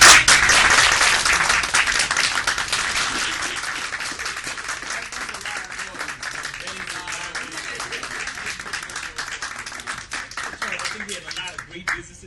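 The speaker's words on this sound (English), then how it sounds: "Can we give them a round of applause for being here?" An audience at a live business after-hours show bursts into loud applause that tapers to steadier, thinner clapping over several seconds, with a brief swell near the end.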